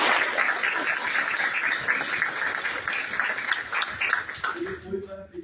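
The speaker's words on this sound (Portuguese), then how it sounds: "Uma salva de palmas também." An audience at an evening talk on the Palestinian question claps continuously, a dense wash of hands that fades toward the end as a voice comes in.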